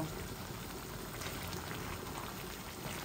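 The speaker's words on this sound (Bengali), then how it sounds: "এই দেখুন আমার কলিজাটা বুনা হচ্ছে, অলমোস্ট বুনা হয়ে গেছে" Liver bhuna cooking in a pan gives a steady, dense sizzle and bubbling hiss close by, unbroken throughout.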